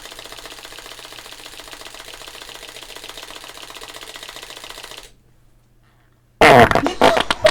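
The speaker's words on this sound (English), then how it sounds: "So it's a farting competition" Farting competition in the Christmas game Xmas Chortles: a long rapid rattling fart sound, a short silence, then a louder burst of farting.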